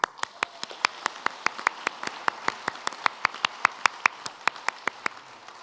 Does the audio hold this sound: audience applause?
yes